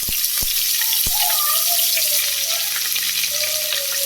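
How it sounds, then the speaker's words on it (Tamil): Onion sizzles loudly in hot oil with popped mustard seeds and curry leaves, a dense continuous hiss with a couple of sharp knocks and faint tonal squeaks, no one speaking. "வெங்காயம் சேர்த்துக்கலாம்"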